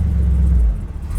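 A car drives its wheels up onto a car trailer's ramp, giving a loud, close, low engine rumble that holds steady and then eases off, with no talk.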